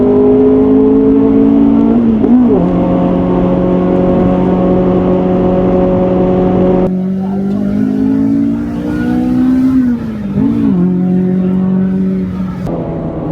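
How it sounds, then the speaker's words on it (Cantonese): A Honda CRX with a VTEC engine, reported as a B18C in a car around 1000 kg, revs loudly while driving, its engine tone holding steady then dipping and rising again through gear changes, close and continuous with no talking. "架車好大聲，但係唔係好行。"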